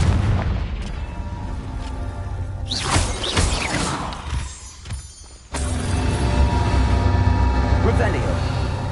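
Confringo fire spell explosions in the Hogwarts Legacy video game, loud bursts and booms amid continuous game noise, with a sharp drop and sudden return around the middle.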